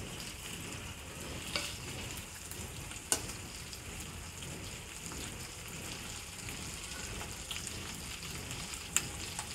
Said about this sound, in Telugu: తర్వాత ఇలా బాగా వేగాక ఆనియన్స్ వేసుకొని